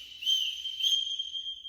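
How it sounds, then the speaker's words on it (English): One long steady blast on a whistle, a bright sustained tone held nearly two seconds, close and fairly loud with no talking, signaling a spin during a children's movement lesson on directions. "when I do a long whistle"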